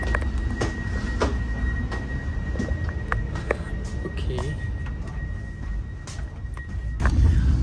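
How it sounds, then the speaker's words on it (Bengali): Ambience in the large Milan railway station: a steady low rumble of trains and machinery, with scattered clicks and knocks and a faint high tone running through it. "সো এই হচ্ছে রেলওয়ে স্টেশন।"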